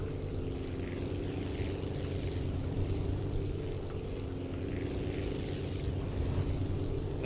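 A propeller airplane in the building game Aviassembly drones steadily in flight, a constant low engine hum with a few faint higher ticks, no voices.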